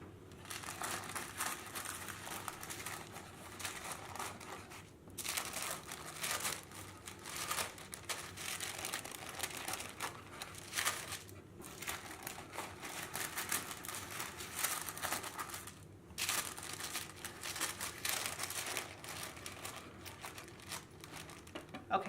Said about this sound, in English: you just whisk all this stuff on this wax paper and then throw it away